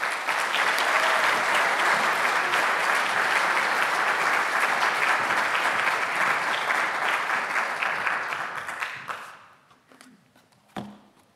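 An audience in an elegant lecture hall applauding to welcome a speaker: steady, full clapping from a crowd for about nine seconds, then tapering off into a few scattered claps.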